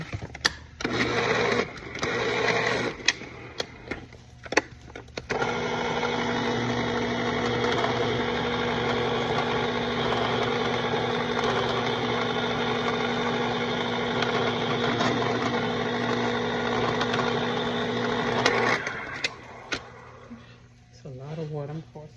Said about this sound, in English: let the can open here